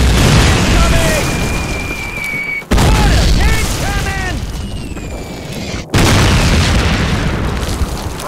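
Mortar shells explode in a Normandy 1944 street battle in Call of Duty, with loud close booms that cut off abruptly, under a constant roar of gunfire and shouting soldiers' voices.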